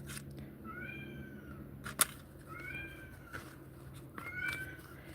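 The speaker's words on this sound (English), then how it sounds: "My cats are so loud." Several house cats meowing downstairs, three drawn-out rising meows spaced apart, faint and somewhat distant, with a sharp knock between them and no talking.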